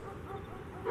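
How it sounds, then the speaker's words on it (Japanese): A dog whimpers in the 1999 Sword of the Berserk: Guts' Rage video game, a brief, close, soft whine that swells slightly at the end. "この犬確かリタロ"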